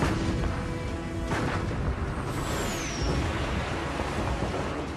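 Heavy naval gunfire from the German battleship Bismarck and heavy cruiser Prinz Eugen exchanging fire with the British Navy in May 1941, a dense steady roar with deep booming rumble and a brief whistling streak overhead.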